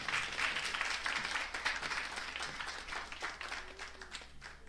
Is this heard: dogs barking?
no